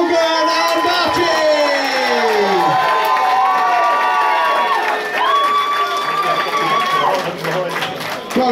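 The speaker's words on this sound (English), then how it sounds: "Can I have a round of applause for Logan and Archie?" Crowd at a Battleground bout event cheers, shouts and applauds for Logan and Archie, a loud, sustained roar with tonal whoops and voices throughout.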